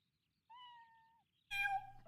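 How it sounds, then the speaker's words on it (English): A cat meows twice in a video game, first a clear drawn-out tonal meow, then a louder, rougher second call after a short pause, close and isolated. "Hello, kitty cat."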